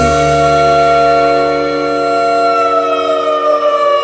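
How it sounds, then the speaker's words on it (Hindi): A mosque's loud, steady siren wails continuously, its tone sustained and slowly shifting, with no voices. "ये तो मस्जिद का सायरन है"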